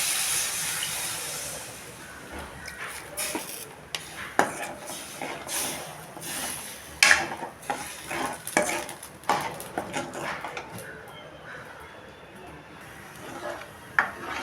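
Tamarind water going into a curry leaf kuzhambu and being stirred: a hissing, bubbling simmer with utensil scrapes and knocks, louder bursts midway and quieter toward the end, with faint background sounds.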